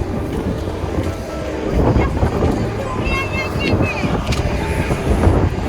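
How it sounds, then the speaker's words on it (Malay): Strong, cold wind on arrival in Tromsø, Norway roars and buffets the microphone in a continuous, loud outdoor rush with gusts rising and falling. "Angin kuat, sejuk."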